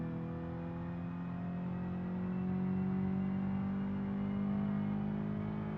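A race car's engine in a racing video game drones at a high, steady pitch as it holds speed, a smooth continuous whine that rises slightly midway, moderately loud with no talking over it.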